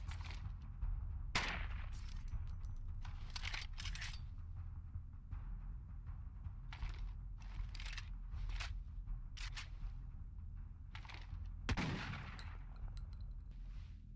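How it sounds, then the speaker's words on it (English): Sharp, close gunshots from an assault rifle and shotgun in the video game Deathgarden ring out in irregular single and clustered bursts over a quiet hum. "These are the weapons I have equipped right now, is the assault rifle and shotgun. I'm just shooting them,"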